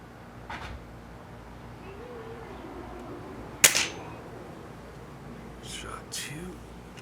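RWS Diana 34 air rifle firing a single shot, a sharp close crack standing out above a quiet outdoor background with faint distant sounds.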